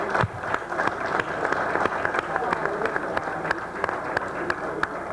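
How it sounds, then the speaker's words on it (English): Applause at a city council meeting, a modest room of hands clapping steadily with sharp individual claps standing out, moderately distant. "So can we just give a round of applause for that anniversary?"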